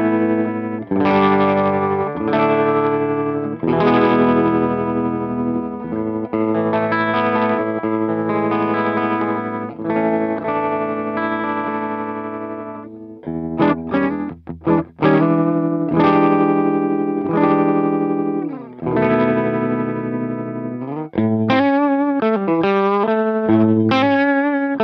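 Electric guitar run through an Electro Harmonix Stereo Pulsar tremolo pedal set to triangle wave, all knobs near noon, playing loud sustained chords and single-note lines that pulse and warble throughout, with no voices.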